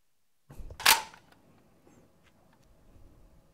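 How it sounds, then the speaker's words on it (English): Gun cocking sound effect for a practice film: one sharp mechanical clack with a brief metallic rattle, close and clear, followed by near silence with faint background noise. "So this is the gun cocking."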